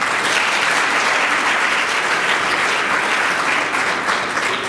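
A conference audience at a regional women's event breaks into dense, sustained applause, a loud continuous wash of many hands clapping with no voices over it.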